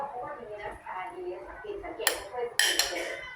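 A knife chops an onion into small bite-sized pieces for a vegetable salad, giving a few sharp, separate cuts against a board. Soft kitchen clinks and a speaking voice run underneath.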